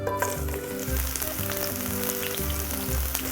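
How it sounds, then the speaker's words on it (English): Sliced zucchini fry in hot olive oil for spaghetti with zucchini, giving a steady, close, crackling sizzle throughout with no talk. "The olive oil's hot, so we're gonna throw our zucchini in."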